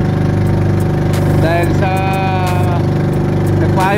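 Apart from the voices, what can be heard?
fishing boat engine running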